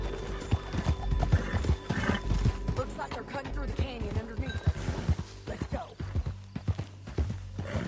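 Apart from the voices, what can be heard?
horse hooves clip-clopping, from a video game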